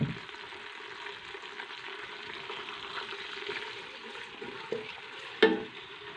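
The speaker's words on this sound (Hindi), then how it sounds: "प्याज को हमने गोल्डन ब्राउन करना है।" Onions frying in oil inside a pressure cooker over raised heat, a soft, continuous sizzle with a faint stir and one sharp metallic knock near the end, no voices.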